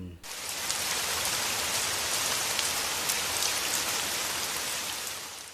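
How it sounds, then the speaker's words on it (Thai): Heavy rain pours down steadily and loudly as a dense, unbroken hiss with faint individual drops spattering, and no voices. "วันนี้เป็นวันที่ฝนตกกระหน่ำ"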